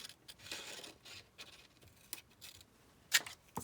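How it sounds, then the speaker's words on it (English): Scissors snip through paper along a ruled line while an envelope booklet is trimmed for a junk journal craft, giving a string of soft, close crisp cuts with one sharper snip near the end. "we're just going to cut along the area right on that line"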